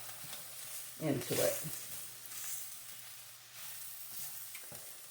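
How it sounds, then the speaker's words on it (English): Flour fries with lean pork sausage in a pan for gravy, giving a faint, steady sizzle with a few brief stirring scrapes, quiet and low under a man's soft speech. "And then you want to fry the flour"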